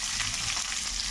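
A short stretch of steady, close frying hiss from onions, green chillies, cumin and curry leaves in hot oil, even in level with no breaks and no voices.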